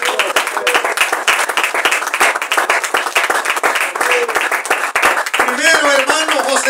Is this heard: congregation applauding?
yes